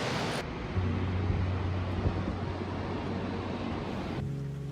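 A broad, steady roar of rushing water from Follingfossen waterfall in Norway fills the scene, constant and loud with a rumbling low end and no voices.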